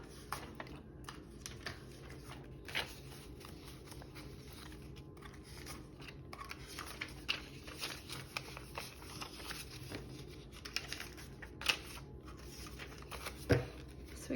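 Cash bills are handled, shuffled and flicked while $246 goes into a savings envelope for a 100-envelope challenge. The papery rustles, soft snaps and taps are faint and close, with a steady low background and no talking.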